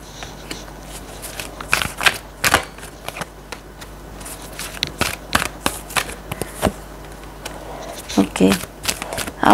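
Tarot cards being shuffled for a reading, a run of crisp flicking riffles in short bursts with pauses between, close and fairly clear, ending in a quicker flurry.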